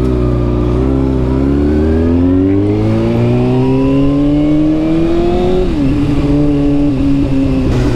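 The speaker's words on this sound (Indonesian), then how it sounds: "Karakter suara knalpot Aero Restek ini sih enak sih ya, adem ya." A 2012 Kawasaki ZX6R motorcycle fitted with an Aero Restek exhaust revs up close by, its engine note climbing steadily over several seconds, then dipping briefly before settling into a sustained high rev with no talk.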